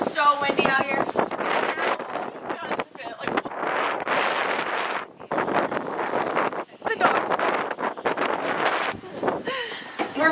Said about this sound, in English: It's going to be so windy. The noise is going to be so bad.